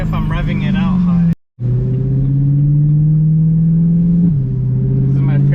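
A warmed-up BMW M3 with a dual-clutch transmission revs high, its engine droning loud and close with a steadily climbing pitch, briefly cut off by a short gap of silence before resuming.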